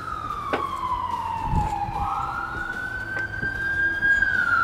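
A heavy rescue squad siren wails as the fire rescue unit heads out, a single rising and falling tone from a short distance, steady and fairly loud, with faint road traffic underneath and no talk.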